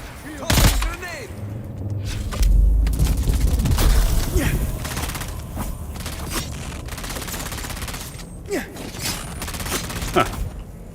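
A grenade bursts with a heavy low boom amid scattered gunfire in a desert firefight in the Dune video game on Arrakis, followed by sharp cracks and rumbling debris.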